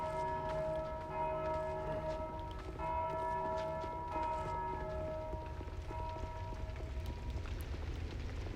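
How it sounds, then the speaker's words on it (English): Repeated bell strikes in the Dark Souls 2 video game ring out at irregular intervals, each leaving a long humming decay that overlaps the next, over a low rumbling background with no voices. "That's the bell the dude was ringing."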